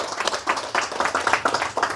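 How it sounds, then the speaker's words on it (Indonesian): An audience claps together at an Islamic religious lecture, a dense, steady round of applause lasting throughout at moderate loudness. "Tepuk tangan untuk Nabi Muhammad Rasulullah."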